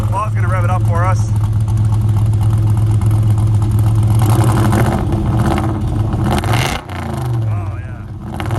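A truck engine rumbles steadily and revs up, loud and close, with a voice speaking briefly over it at the start.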